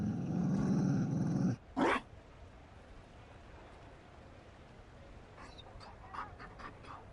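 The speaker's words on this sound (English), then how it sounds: "You found a dog." A Mabari war dog in the video game Dragon Age Inquisition gives a loud, low growl for about a second and a half, then one short burst, before fading to quiet background with faint clicks.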